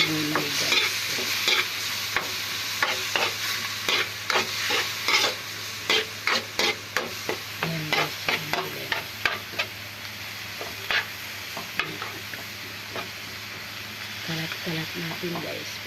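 Ground meat is browned in a pan before vegetables go in, a constant sizzle under a steady run of sharp spatula scrapes and taps in an uneven rhythm, close and clear, with a voice speaking now and then.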